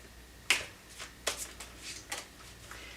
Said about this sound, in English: These cards, every time I shuffle them, they just want to fly.